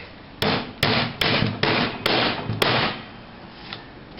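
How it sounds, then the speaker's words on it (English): A hammer taps carriage bolts into holes in a trailer stock rack in a quick series of six sharp metal taps, the blows spaced unevenly and ringing briefly before the next hit, with no talking. "when we tap them in with the hammer, it'll set that square shank"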